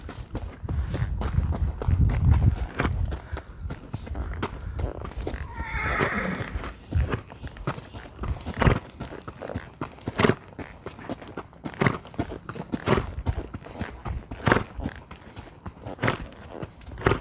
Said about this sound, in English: This is going to end up being a really nice horse.